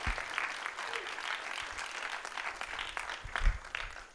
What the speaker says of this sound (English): Let's give a round of applause, first of all, to all of our awardees.